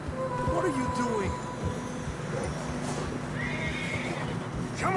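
Horses on a narrow snowy trail in Red Dead Redemption 2 neigh and whinny in a few short calls over steady clip-clop hooves and wind, with voices talking at times.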